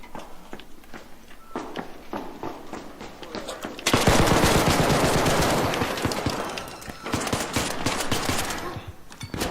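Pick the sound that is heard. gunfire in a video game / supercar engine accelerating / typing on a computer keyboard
gunfire in a video game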